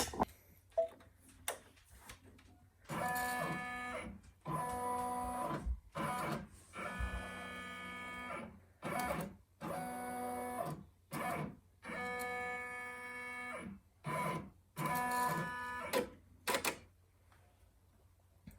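A Brother PR1055x embroidery machine runs a design trace, giving a quiet, steady series of short mechanical whirring bursts broken by brief pauses, close by and with no talking.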